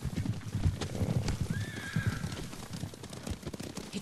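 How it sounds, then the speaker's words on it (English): Horses gallop toward the player in the video game Ghost of Tsushima, rapid hoofbeats clattering throughout with one clear whinny rising midway, loud and close. "Horses, they're coming for us."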